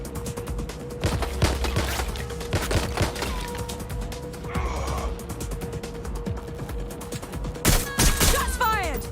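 Scattered gunshots ring out in a Watch Dogs: Legion firefight, a few sharp loud cracks spread over several seconds with mechanical clatter and a steady background hum, and brief voice sounds appear in between.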